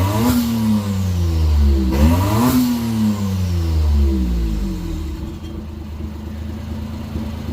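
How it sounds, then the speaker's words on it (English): A Honda Beat PP1 with an E07Z engine and turbo swap, running with a suspected bad calibration: loud, close engine rising and falling through repeated revs, then settling into a rough, steady idle rumble. "Car's been running for a hot minute, just doesn't seem right."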